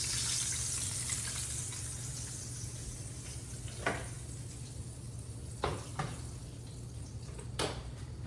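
Water boiling in a pot on a kitchen stove while chicken parmesan is cooked, a faint, steady bubbling hiss broken by a few soft clicks and clatters of kitchen utensils.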